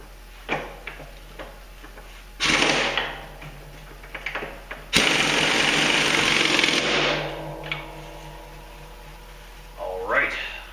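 An impact wrench runs down bolts on a Boss V plow cutting edge, mounted on an F250, in two sustained loud bursts with a few short clanks between them.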